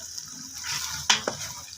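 A spoon stirs salt, chili, black pepper, turmeric and dried coriander into brinjal in a pot, giving soft scraping and a couple of sharp metallic clinks at close range.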